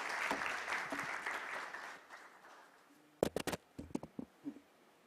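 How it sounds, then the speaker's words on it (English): An audience at a financial sector conference applauds for a speaker being welcomed, a dense wash of clapping that fades over two seconds, followed by a few scattered late claps and light handling noises. "Please give him a round of applause."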